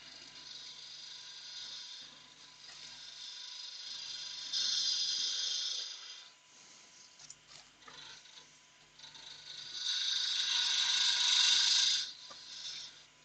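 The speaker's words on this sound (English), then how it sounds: "Now we'll use the 3/8 spindle gouge just to try and hone in our" A 3/8 spindle gouge makes gentle passes on a wooden workpiece spinning on a lathe, giving a hissing scraping cut that swells in two louder bursts over a steady mechanical hum, with no talking.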